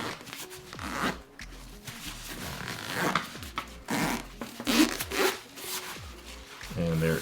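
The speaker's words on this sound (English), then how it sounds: "That's dual zippers," Dual zippers on an Apple Vision Pro travel case are pulled open close up, giving a run of quick rasping zip strokes with short pauses between them.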